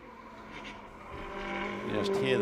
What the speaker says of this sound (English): You just hear the tires howling.